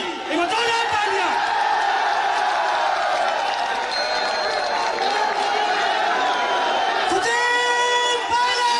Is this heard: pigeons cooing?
no